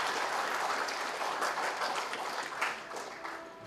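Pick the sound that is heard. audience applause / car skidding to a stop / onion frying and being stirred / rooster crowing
audience applause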